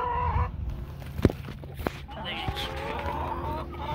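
Backyard chickens cluck and murmur close by while kitchen scraps are fed to them, a short busy stretch of soft clucks with a few sharper calls and light handling noise.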